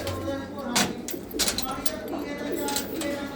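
Pigeons in a loft, including a red Chinese male and his hen, coo in low rolling bursts nearby, mixed with sharp clacks and rustling as the birds move about.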